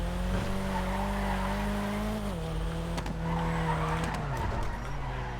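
In the video game GTA Online, a car drifts with a constant engine drone and long, sustained tire squeal whose pitch wavers as it slides, loud and continuous throughout.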